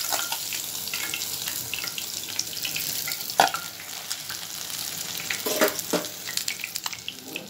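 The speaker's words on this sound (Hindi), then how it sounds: "अब अगला बैच इसमें डालेंगे तलने के लिए।" Fish frying in hot oil for a Lahori fried fish recipe, with a steady close sizzle and bubbling throughout, plus occasional clinks and stirring noises and no talking.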